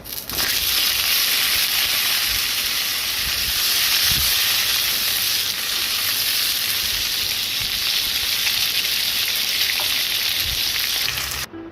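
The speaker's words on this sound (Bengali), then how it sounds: "কালো জিরেটা গরম হলে আমি দিয়ে দেব এর মধ্যে পটলগুলো ভাজতে।" Pointed gourd fries in hot mustard oil with black cumin, giving a loud, unbroken hiss and crackle that runs steadily until it cuts off at the end.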